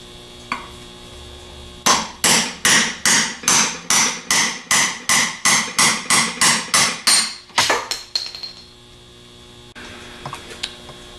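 A hammer strikes a medium-sized 1/2-inch extension to drive a bushing or bearing out, about fifteen loud, evenly spaced metallic blows in a steady rhythm over a low mains hum.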